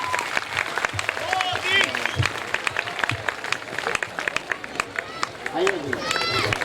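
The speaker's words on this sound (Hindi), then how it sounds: "एक बार जोरदार तालियां उनके अभिनंदन के लिए" Loud, sustained applause from a crowd at a poetry gathering (kavi sammelan), dense rapid clapping with cheers and voices mixed in.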